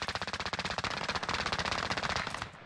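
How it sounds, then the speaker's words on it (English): Rapid automatic gunfire in the Call of Duty Modern Warfare video game, a loud close burst of evenly spaced shots running for over two seconds before cutting off, with no speech. "I don't know where he shot me from"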